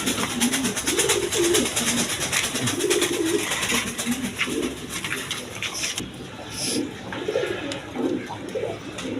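Tulip pigeons cooing together in a loft or pen, a continuous layered chorus of soft, repeated coos close by over a steady background hum, with no talk.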